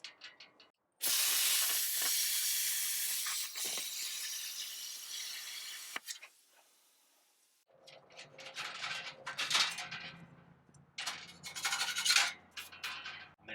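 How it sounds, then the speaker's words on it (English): A plasma cutter with a drag shield cuts a slot, giving a loud, steady hiss that starts abruptly and runs for several seconds. Scraping and clattering handling noises follow after a short pause. "this is only going to work if you have a plasma cutter that uses a drag shield"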